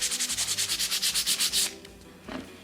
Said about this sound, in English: then sand it by hand just to get it perfectly not perfect